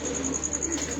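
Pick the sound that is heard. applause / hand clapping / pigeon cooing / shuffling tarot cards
pigeon cooing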